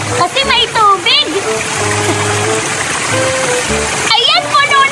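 Water splashes and gushes steadily while a toy water gun is filled, a continuous close rushing sound under the chatter of children talking.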